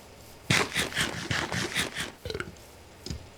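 Eating sound effect in the Minecraft video game, a run of quick crunchy munching bites repeating steadily for about two seconds, then a few softer isolated chews, close and moderately loud with no talk.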